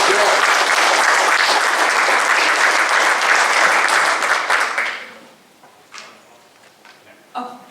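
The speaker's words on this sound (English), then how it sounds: "Big round of applause for that group." A big round of applause from a closing-event audience, dense and loud for about five seconds before fading to a few scattered claps and faint movement.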